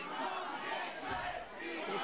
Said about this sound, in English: The crowd serenading him with piece of shit chants.